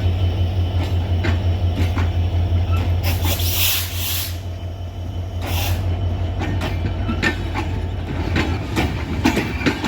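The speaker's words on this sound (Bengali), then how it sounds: "দ্রুতযান এক্সপ্রেস আক্কিলপুর রেল স্টেশন 1 নম্বর লাইন থেকে ছেড়ে যাচ্ছে" Drutojan Express pulls away from Akkelpur railway station in Bangladesh with a steady low engine drone, rolling wheel clatter and brief bursts of hiss, loud and close throughout.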